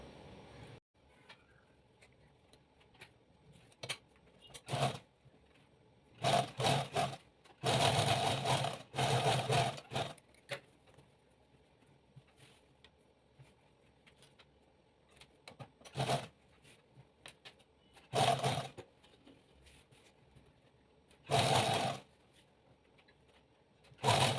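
A sewing machine stitches a one-inch side seam on a salwar pant in short separate bursts of whirring, some brief and some longer, with quiet pauses between them.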